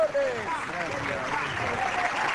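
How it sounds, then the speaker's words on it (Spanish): Studio audience on a Peruvian TV comedy show applauding, a broad wash of clapping mixed with cheering voices and overlapping talk for a couple of seconds. "¡Fuerte el aplauso para PPK!"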